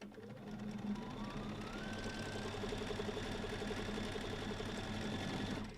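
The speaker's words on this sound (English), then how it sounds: "as you get used to your sewing machine, you'll hear the different pitches on the different speeds" A sewing machine runs continuously during free motion quilting, a fast steady mechanical stitching rattle with a whirring motor whose pitch rises gradually as the speed picks up, close and moderately loud.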